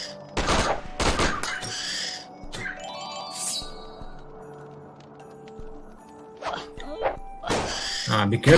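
Bursts of machine-gun fire from an enemy gunner in the steampunk video game Bravada, sharp cracks clustered near the start and end, with someone talking over most of it.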